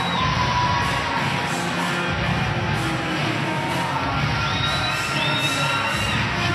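A large crowd at a live MMA event cheers and shouts in a dense, steady roar that holds loud for the whole stretch, with high excited yells poking through.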